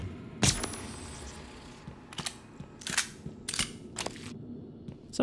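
Pistol shots in the sci-fi game Prey: Mooncrash, a series of sharp, close cracks spaced irregularly over a low background hum, no talk.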